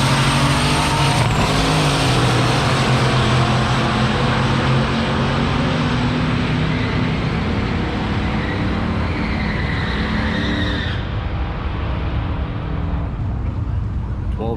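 Drag race at Gainesville Raceway between a turbocharged 2003 Chevrolet Suburban and a nitrous-fed GMC K5 Jimmy, a loud sustained engine roar with a rising whine that fades after about eleven seconds, under a commentator's voice.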